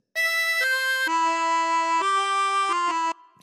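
Phrase four of a theme on harmonica, a continuous run of sustained reedy notes stepping down and back up in pitch, close and loud, with no voices.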